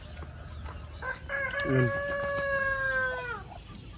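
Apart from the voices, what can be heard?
ducks in the province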